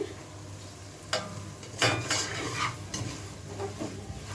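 Spices being stirred into browned fried onions in a pan, a soft background sizzle broken by several sharp metallic scrapes and clinks of the spoon, close by and irregular.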